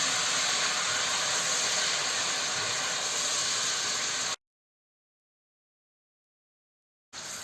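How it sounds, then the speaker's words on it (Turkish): Pasta sauce sautéing in a hot pan, a steady, loud sizzling hiss that runs unbroken for several seconds, then cuts out to silence and briefly returns at the end. "Bir 15-20 saniye sosumuzu kavuruyoruz."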